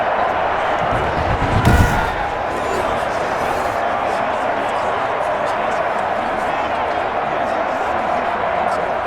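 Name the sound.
stadium crowd noise in Madden NFL 21 video game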